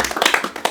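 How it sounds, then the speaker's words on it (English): A brief round of applause from a few hands at a casual podcast recording, quick uneven claps close by and moderately loud, with no talking over them. "So, round of applause."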